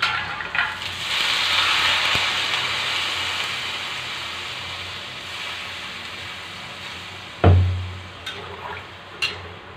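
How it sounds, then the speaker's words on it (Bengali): Water pours into a pan of vegetarian kakrol in a steady, hissing stream for several seconds, ending with a single thud and a few small clinks. "এবার দিয়ে নেব জল।"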